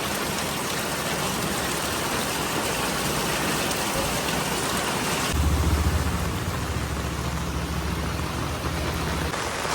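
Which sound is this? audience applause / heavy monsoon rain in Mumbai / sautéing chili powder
heavy monsoon rain in Mumbai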